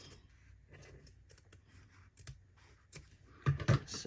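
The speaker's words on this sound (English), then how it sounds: "I'm going to cut this out. And I always cut on the inside of my circle." Scissors cut out a traced circle for button jewelry, giving soft, quick snips in a close, quiet series, growing louder near the end.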